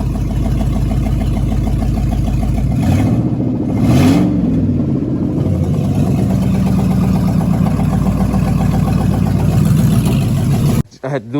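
A car engine fitted with an electric throttle runs loud and close, idling steadily with a couple of revs rising and falling partway through, then cuts off abruptly near the end.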